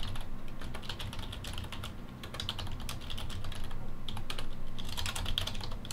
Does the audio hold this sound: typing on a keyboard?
yes